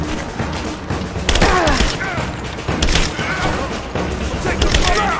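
Sustained suppressing gunfire in a Rise of the Tomb Raider firefight, with dense loud bursts and booms recurring throughout and voices shouting over the barrage.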